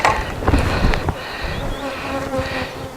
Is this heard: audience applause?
no